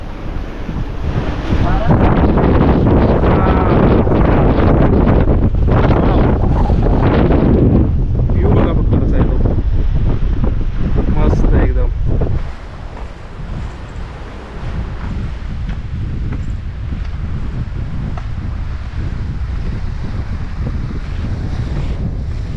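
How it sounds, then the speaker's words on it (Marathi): Heavy wind buffets the microphone in a continuous loud roar atop a 50-foot seaside cliff, easing somewhat partway through, with faint voices and sea water beneath. "वाऱ्याचा आवाज भरपूर येत असला आतमध्ये"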